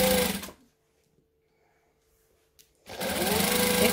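A sewing machine runs close by as it backstitches a quarter-inch seam. A steady mechanical whir sounds for about half a second, then near silence, then the motor starts again.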